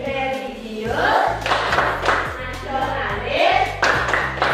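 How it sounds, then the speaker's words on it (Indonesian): A group claps in a quick patterned rhythm, the Indonesian "tepuk PPK" clapping routine, bursts of claps alternating with shouted voices chanting together in a lively classroom-style routine. "mari kita semua panaskan dengan tepuk PPK"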